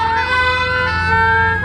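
A Scania fire engine siren at a steam engine rally, loud and close, its tone sweeping and then holding a steady wailing pitch over an engine drone.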